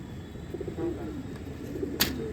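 Pigeons coo on a rooftop in Sultanwind Road, Amritsar, a few soft low calls close by, with a brief sharp chirp near the end and no talking.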